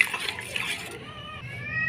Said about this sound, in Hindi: हाफ कप आपने पानी शामिल करना है इसमें।